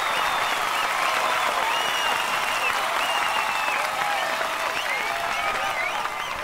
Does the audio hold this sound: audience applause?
yes